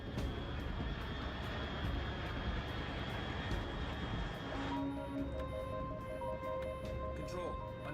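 Aircraft engine drone from a video game, a steady broad roar that fills the whole clip, with thin electronic tones joining over the last few seconds.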